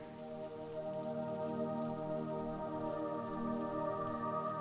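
Steady rain used as a stage-play sound effect falls continuously at even volume, a dense patter with a faint tonal hum underneath and no talking.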